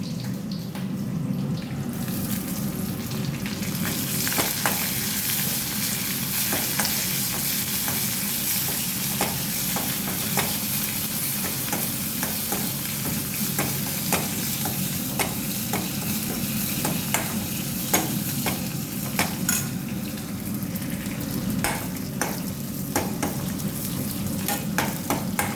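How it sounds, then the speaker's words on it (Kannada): Tempering for tomato rasam sizzles in hot oil as a spoon stirs and scrapes the pan, a loud steady fry with frequent sharp metallic clicks from the stirring, close and continuous with no talk. "ಒಗ್ಗರಣೆ ಆಗ್ತಾ ಬಂದಿದೆ"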